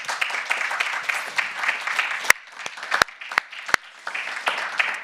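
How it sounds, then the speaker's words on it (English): Audience applause closing a travel risk management panel debate, dense clapping from a moderate crowd that thins into a few sharp isolated claps midway, then swells again. "So one last round of applause"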